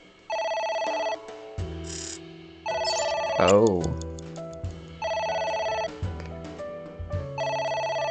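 A telephone rings in the video game AI: The Somnium Files, an electronic ringtone repeating in regular bursts with short gaps, loud and close, while a player speaks briefly over it.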